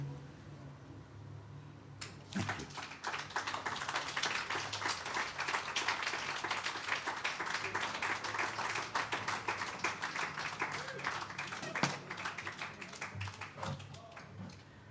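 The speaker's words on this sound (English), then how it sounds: "another round of applause for Mr. Lee Weaver" An audience at an outdoor open mic on King Street breaks into sustained applause. Dense, steady clapping swells after a quiet start and carries on for over ten seconds.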